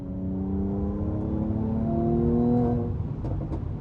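A 2019 Mercedes C43 AMG lifting off the throttle, its engine note falling in pitch as it decelerates, with a few faint crackling pops near the end, heard from inside the car.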